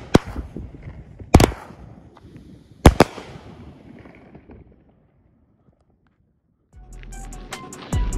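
A Firehawk Wipeout fireworks cake fires loud, sharp explosive bangs spaced a second or so apart, then a pause of near silence before a rapid crackling flurry of reports closes out.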